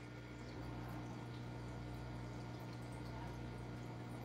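A homemade nano reef aquarium protein skimmer runs with a steady pump hum and a constant fizzing, bubbling wash of foaming water, even and unbroken throughout.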